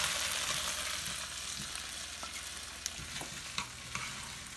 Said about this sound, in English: So let's put some potatoes on, which have been browning very nicely over here.